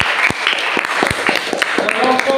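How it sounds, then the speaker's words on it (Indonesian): A classroom of students claps for a student group, brisk dense applause close by with a few scattered voices. "Tepuk tangan buat kelompok 2."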